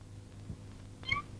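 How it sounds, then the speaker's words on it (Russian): A brief, faint cat meow rises over a quiet background hum, a single short call, from the soundtrack of a 1939 film. "Должно быть кошка."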